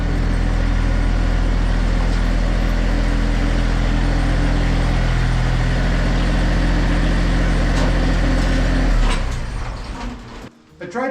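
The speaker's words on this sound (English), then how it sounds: "I'm going to put the tractor in here" A tractor drives into a shed enclosure, its engine rumbling close and steady for most of the stretch before cutting out and leaving a quieter, rattling tail.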